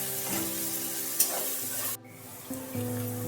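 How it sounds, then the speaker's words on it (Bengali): Three medium chopped onions fry in a pan, a steady close sizzle with a stir or two, while a musical tone plays over it and the hiss briefly drops out midway before resuming. "পেঁয়াজটা একটু লাল লাল করে ভেজে নিতে হবে।"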